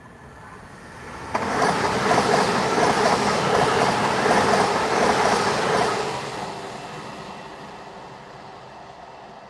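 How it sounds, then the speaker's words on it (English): A train rumbles past on the railway at close range, arriving suddenly with a loud roar that holds for several seconds, then fades steadily as it moves away. "there goes the train. That's your next train just gone through."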